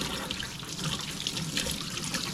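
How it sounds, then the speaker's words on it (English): Tap water running steadily into a kitchen sink during hand washing, a close, full, continuous splashing rush with no talking. "we're just gonna wash our hands, throw some water, throw some soap on."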